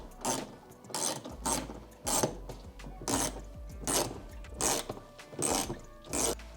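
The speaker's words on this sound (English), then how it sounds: "We're gonna go ahead and remove the two lowermost screws with the T20 Torx." A T20 Torx driver backs out screws on a Rivian R1T, a sequence of eight evenly spaced ratcheting clicks close by, each burst short and crisp with quiet gaps between.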